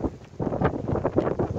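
Wind buffeting a microphone outdoors during a walk with a dog, irregular low rumbling gusts that swell and fade in uneven pulses.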